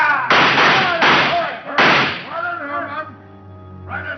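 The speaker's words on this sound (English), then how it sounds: "They tried to shoot it out." A radio drama shoot-out scene with three sharp, loud gunshot effects in quick succession, followed by a fading ringing tail.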